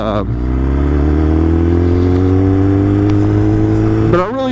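A Kawasaki ZX-10R motorcycle engine runs loud and close, its steady idle rising slowly in pitch before a brief blip near the end.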